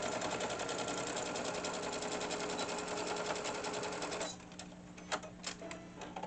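Sewing machine running a steady seam around a tea bag wallet for about four seconds, then stopping, followed by a few soft handling clicks and taps.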